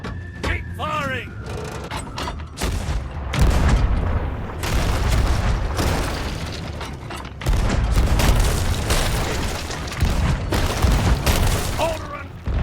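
Cannon fire from a ship battle in the Sea of Thieves game booms repeatedly in heavy, loud bursts over a dense rumble of mechanical noise, with voices talking through the action.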